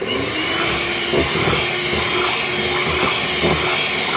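An electric mixer beats caramel date cake batter with a steady, loud whirring motor drone and a faint rattle against the bowl, running without pause for the whole stretch; nobody talks.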